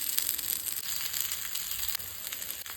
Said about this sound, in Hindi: ये रवे के साथ, और इसको फ्राई होने के लिए यहाँ पे डाल देंगे.